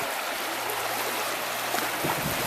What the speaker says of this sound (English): Shoals like this on the Broad River kind of make it fun and keep the boat moving down the river.